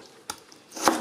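A knife strikes a cutting board while potatoes are cubed for a beef and green bean soup, giving two quick, close chops with a short gap between them.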